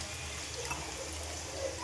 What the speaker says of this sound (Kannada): ಅದಕ್ಕೆ ನೀರು ಹಾಕೋಬೇಕು.